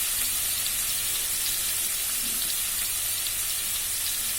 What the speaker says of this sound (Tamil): நல்லா வெங்காயம் வதங்கினதுக்கப்புறம் 3 தக்காளி பழத்தையும் போட்டு நல்லா வதக்குவோம்.